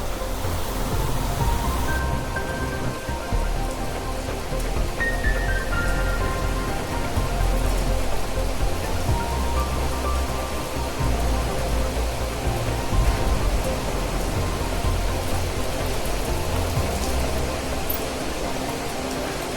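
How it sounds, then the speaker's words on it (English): Steady rain patters continuously on surfaces in the survival crafting game Planet Crafter, a dense, even hiss that lasts throughout with no talking. "More rain."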